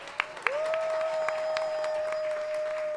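An audience at a Brooklyn event honoring Jackie Robinson claps, with a few sharp claps first and then steady applause beneath a long sustained tone that runs to the end.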